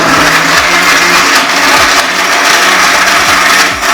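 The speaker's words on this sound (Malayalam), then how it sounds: "നമ്മൾ ഇത് ഒന്നുകൂടെ ഒന്ന് മിക്സിയിലിട്ട് അടിച്ചെടുക്കണം." A mixer grinder whirs loudly and steadily, blending a peanut butter weight-gain smoothie with milk, its motor drone close and continuous with slight pitch wobbles throughout.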